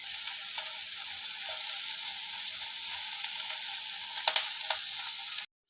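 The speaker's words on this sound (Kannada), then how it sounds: "ಇವೆಲ್ಲ ಒಂದು ಸ್ವಲ್ಪ ಎಣ್ಣೆ ಹಾಕ್ಕೊಂಡು ಫ್ರೈ ಮಾಡ್ಕೊತೇನೆ ರೀ." Onion and cinnamon frying in oil for a mushroom gravy: a steady, bright, close sizzle holding for several seconds, with a couple of light stirring clinks near the end before it cuts off abruptly.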